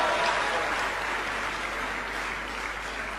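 Live audience applause at a Hindi comedy and poetry stage show, a dense steady wash of clapping that holds loud for several seconds and eases off only slightly toward the end.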